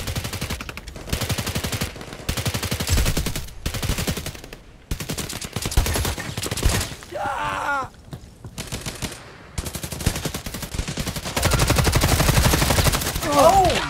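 Rapid gunfire from a video game shooter: loud, sustained automatic bursts separated by short pauses, with a few brief electronic effects between volleys.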